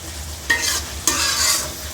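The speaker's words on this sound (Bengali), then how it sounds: "এখন টমেটোগুলো ভালো করে কষিয়ে নেব।" Tomatoes and onion greens sautéing in a pan for a tengra fish bhuna, a loud close sizzle with two bursts of stirring scrapes, no voices.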